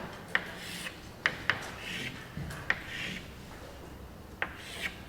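Pen or pencil drawing a quick sketch on paper, close dry scratchy strokes in short bursts with several sharp tapping clicks scattered between them, no voices.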